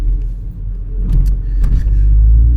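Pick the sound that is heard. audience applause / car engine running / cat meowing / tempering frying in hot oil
car engine running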